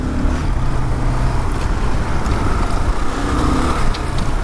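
A 2022 Kawasaki KLR650 ABS motorcycle ridden off-road, its engine and rushing wind making a steady, close, unbroken roar with no talk.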